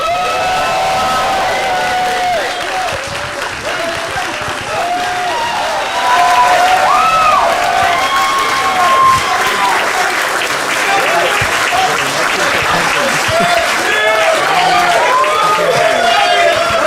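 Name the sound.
audience applause and cheering for award winner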